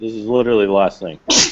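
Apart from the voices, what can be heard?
sneeze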